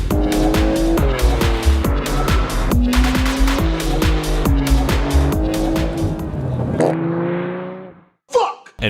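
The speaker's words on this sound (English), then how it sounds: "Next, the Porsche 992 Turbo." A Porsche 992 Turbo launches hard, its engine note climbing through repeated gear changes while tires squeal, loud and close, before cutting off abruptly near the end.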